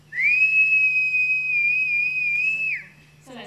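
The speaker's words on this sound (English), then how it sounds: "So let's give him a whistle and he's going to come in behind you." A falconer gives one sustained, clear whistle to call in a bird of prey. The pure tone wavers slightly and lasts almost three seconds, loud and close against a quiet background.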